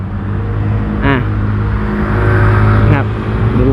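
A GPX Drone motorcycle ridden in city traffic accelerates under throttle, its engine drone rising steadily and holding close and loud, with two brief rising whines and a rider talking over it.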